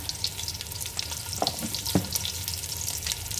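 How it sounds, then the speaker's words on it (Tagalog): Spices with turmeric and paprika fry in a hot pan, a steady crackling sizzle with a few soft stirring scrapes, close and continuous. "Tapos i-fry natin ang spices."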